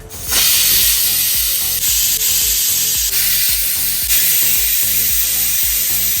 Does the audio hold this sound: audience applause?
no